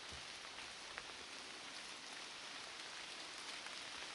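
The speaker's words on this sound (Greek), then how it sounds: "Βροχή." Rain falling steadily outdoors, a soft, even hiss of raindrops on surfaces with a few faint individual drops, fairly quiet and continuous with no talking.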